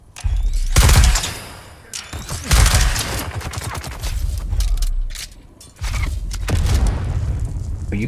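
Gunfire from snipers and other weapons crashes in the video game Dune Awakening, several loud booming shots with echoing tails spread across the clip amid ongoing combat noise.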